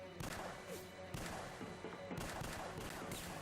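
Gunfire in the video game Tomb Raider: The Angel of Darkness: dense, continuous rapid shots and thudding impacts roll on without pause, loud and busy throughout.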